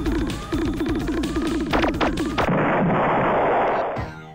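Ship weapons fire in the space combat game Star Control II, a rapid run of repeated laser-like shots followed by a dense, loud crackling burst of blasts that holds before fading.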